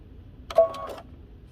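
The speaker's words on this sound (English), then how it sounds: "we're going to go ahead and edge stitch the outer edge of our pocket" A sewing machine edge stitches the outer edge of a pullover hoodie pocket in one short, close mechanical burst of about half a second, surrounded by near silence.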